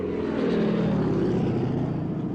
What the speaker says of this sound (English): she heard planes flying by so low